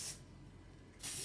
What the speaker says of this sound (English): I would recommend using a silicone spray and just going over the cracks between each disc